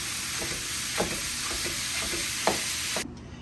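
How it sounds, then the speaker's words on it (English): Ground turkey browns in a pan with a constant close sizzle, broken by several soft scraping stirs before the sound cuts off. "So the first thing I'm going to do is brown the turkey."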